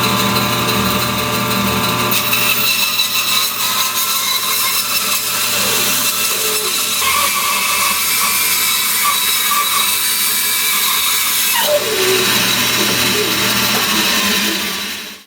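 A bandsaw in a home wood shop cuts through a curly maple turning blank with a steady, loud, continuous mechanical whine and rasp that holds throughout, shifting in tone around the middle and again near the end as the cut changes.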